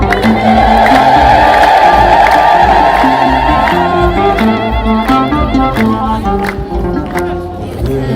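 A large church congregation cheers in praise at an Orthodox gathering, a loud, sustained wall of massed voices with high trilling calls rising over the crowd noise throughout.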